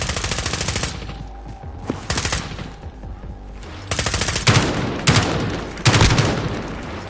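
Automatic gunfire in Call of Duty Warzone: loud, rapid bursts of shots come close, break into short pauses and return with heavier, booming volleys.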